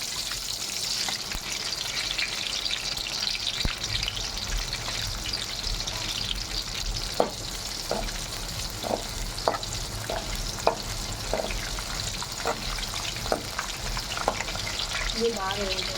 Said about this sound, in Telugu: పచ్చిమిరపకాయలు ఇలా ఫ్రై అయిన తర్వాత